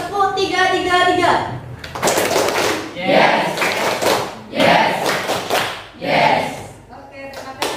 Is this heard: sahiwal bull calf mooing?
no